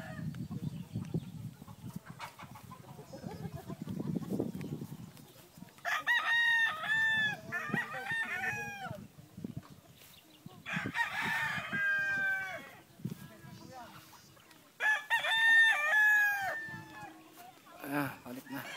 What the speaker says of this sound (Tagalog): Ay, mga manok ng Tito Ricky.